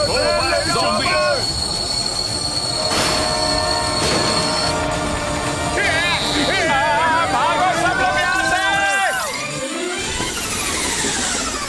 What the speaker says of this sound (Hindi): डॉक्टर झटका, ट्रेन रुक गई है।